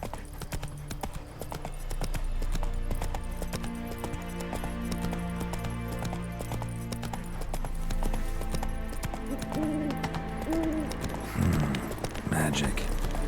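Roach the horse galloping in The Witcher 3 on Death March difficulty, a steady rhythmic clip-clop of hooves running continuously under a swelling orchestral score, with a voice speaking briefly.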